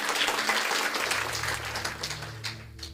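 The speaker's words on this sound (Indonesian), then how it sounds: "Tepuk tangan yang meriah buat Tuhan." A church congregation applauds during a sermon, a steady wash of many hands clapping that holds throughout at moderate loudness, with a low sustained tone beneath.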